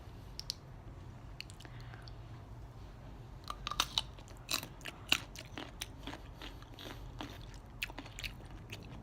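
Pickled young mango, crisp and sweet-sour, being bitten and chewed: a run of sharp, close crunches and wet clicks from about the midpoint onward, over a steady low background hum with no talking.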